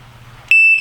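MK1 R-Plus Compact remote bite alarm pairing: after a quiet hum, a single loud, sustained electronic beep sounds near the end, clear and close.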